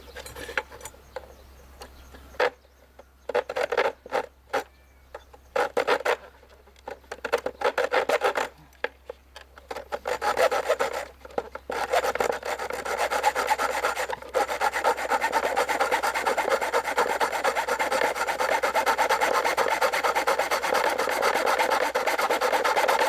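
A hand saw cuts through an aluminum frame, starting with a few short, separate rasping strokes and building into fast, continuous rhythmic sawing that stays close and fairly loud.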